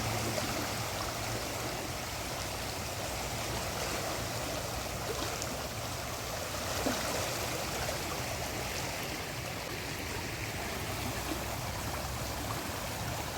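The flooded Ganges at Haridwar after a night of heavy rain rushes past in a continuous, even roar of flowing water, heard alone at moderate distance without talk.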